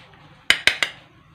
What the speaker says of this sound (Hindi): ये इसको अभी चम्मच को हिलाते रहेंगे, तब तक चलाते रहेंगे जब तक इसमें उबाल ना आ जाए दूध में